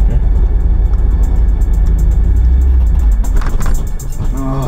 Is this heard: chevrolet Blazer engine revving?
yes